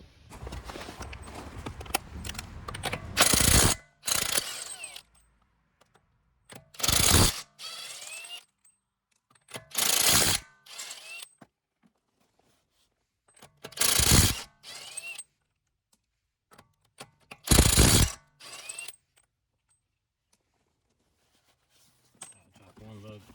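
Ratchet spinning off 21mm lug nuts to remove a car wheel during a Nissan rear coolant pipe job, heard as five separate bursts of quick clicking, each a second or two long, with quiet gaps between them.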